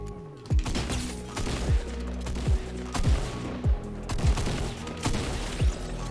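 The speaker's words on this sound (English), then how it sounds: "I just no-scoped him with this lever action rifle" Lever action rifle fires in a video game, roughly eight sharp, loud shots spaced about half a second to a second apart over a steady background of game ambience, no talking.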